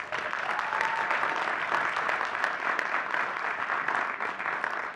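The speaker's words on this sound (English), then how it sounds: "Why don't we give Vince a big round of applause?" A large crowd applauds at a university commencement ceremony, a continuous wash of many hands clapping at an even, moderate level, heard from some distance, with no voices over it.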